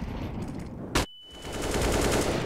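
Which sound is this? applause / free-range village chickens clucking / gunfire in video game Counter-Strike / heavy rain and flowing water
gunfire in video game Counter-Strike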